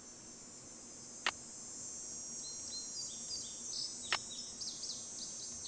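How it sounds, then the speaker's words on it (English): Chirpy American goldfinch song played back from a tape, high twittering notes and a couple of sharp clicks over steady hiss and low hum, fairly faint. "American goldfinch."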